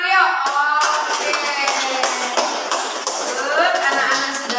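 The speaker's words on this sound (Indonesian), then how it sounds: "Tepuk tangan yuk." A school class clapping together in a counselling group session, a brief burst of claps blended with children's voices and a teacher speaking, close and fairly loud.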